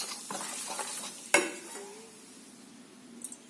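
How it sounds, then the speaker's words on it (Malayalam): A spoon stirs appam batter with sugar in a pot, giving one sharp metallic clink followed by soft scraping and faint kitchen clatter, close and quiet. "ഇതിലേക്ക് 1 സ്പൂൺ പഞ്ചസാര ഇട്ടിളക്കി"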